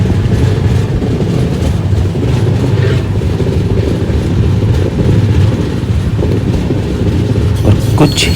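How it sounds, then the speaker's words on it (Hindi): The Darshan Express 12494, heard from inside a non-AC coach, rumbles steadily along the rails, a continuous loud low roar with faint rhythmic clatter, no voices. "धीरे धीरे हमारी ट्रेन ने भी रफ्तार पकड़ी"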